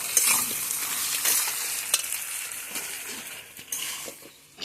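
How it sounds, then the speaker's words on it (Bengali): Spices sizzling in hot oil in a pan as they are stirred and sautéed for a curry, with a steady close frying hiss and occasional clinks of spoon against the pan. "এখন খুব সুন্দর করে কষাবো"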